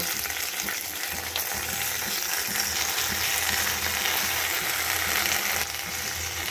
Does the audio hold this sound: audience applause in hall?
no